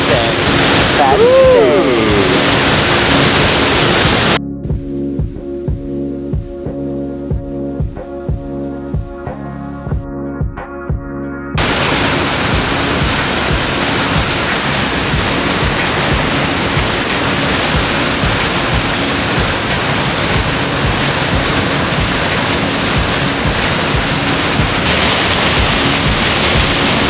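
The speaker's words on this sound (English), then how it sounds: "Literally standing right on top of the fall. Look at this. You can see it just falling down right there." Waterfall on Iceland's Golden Circle, heard from right on top of the fall: a loud, steady broadband roar with wind buffeting the microphone, briefly dropping out partway through before the rush returns.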